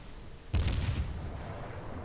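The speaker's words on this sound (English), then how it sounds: "Another salvo away." A warship's main guns firing a salvo in World of Warships: one heavy, booming blast with a rumbling low-end tail that fades over about a second, standing alone over steady background noise.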